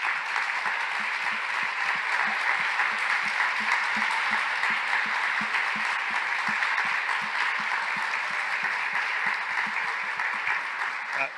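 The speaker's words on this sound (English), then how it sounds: "please join me in giving a really incredible round of applause for the incredible speakers today" Sustained applause from a large audience at a health conference, steady and loud throughout, with dense overlapping claps and no pauses.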